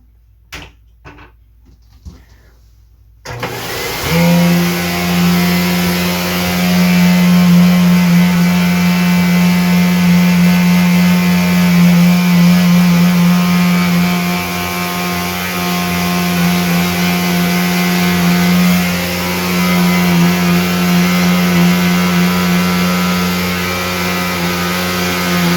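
A Flowbee vacuum haircut clipper switches on after a few quiet seconds and runs continuously at close range, a loud steady motor hum with strong low harmonic tones and a broad whooshing airflow that wavers slightly in level, with no talking.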